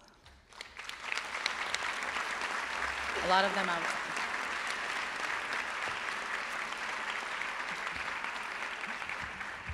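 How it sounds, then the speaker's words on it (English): Conference plenary audience giving a round of applause for a board and committee: sustained, dense crowd clapping filling the room at steady loudness, with a brief voice speaking over it early on. "can you please stand quickly to get a round of applause?"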